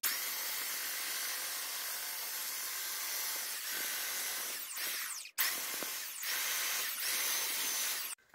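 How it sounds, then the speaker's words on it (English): Sanding the corners of a window air conditioner mount for a small travel trailer, a steady continuous abrasive rasp with brief pauses and strokes, close and fairly loud, no talking. "we're gonna sand the corners because this thing didn't fit quite right"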